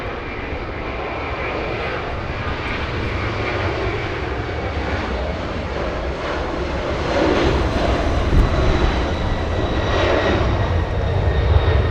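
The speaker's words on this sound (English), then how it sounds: "767 getting a move on." A Boeing 767 airliner takes off at Los Angeles International Airport with a powerful, continuous jet roar that builds slightly louder toward the end, heard alone without speech.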